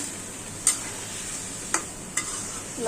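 Papaya and potato sizzling in oil in a pan, a soft steady frying hiss broken by three sharp scraping clinks of a spoon stirring.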